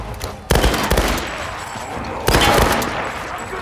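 Tomb Raider video game gunfire comes in two loud bursts of rapid shots, about two seconds apart, each trailing into a noisy, rumbling battle background.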